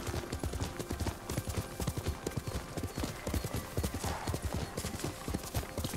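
Horse hooves clip-clop steadily at a trot in Ghost of Tsushima, a dense rhythmic patter close up, with faint game ambience around it.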